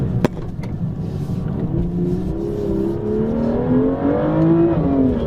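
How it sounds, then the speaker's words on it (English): BMW M2 engine under way, a steady close drone that rises in pitch as the car accelerates, with a sharp knock near the start. "driving BMW's new high-performance tiny little Hot Wheels style car"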